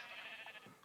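Sheep bleating in a modded building video game, one short soft bleat heard faintly on its own.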